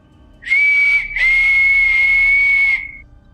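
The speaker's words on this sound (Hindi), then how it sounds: "किसी के सीटी की आवाज मेरे कानों में आती है।" A single loud, clear whistle sounded alone: a short high tone breaks off briefly, then a longer sustained blast holds steady for about two seconds before fading out.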